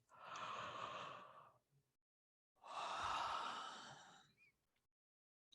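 Two long, breathy exhalations, like slow deep yawns, each lasting about a second and a half with a quiet pause between them.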